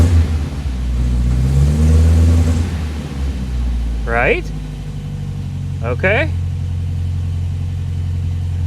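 1975 MGB engine rumbling low as the car pulls away in first gear, steady and close, with brief speech over the engine.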